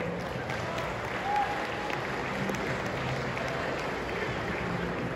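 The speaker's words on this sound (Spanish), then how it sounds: "Un aplausote para Jesús" Audience applause at a comic convention stage show in Guadalajara, a steady even clapping from a crowd that holds for the whole stretch at moderate loudness, with a faint murmur of voices underneath.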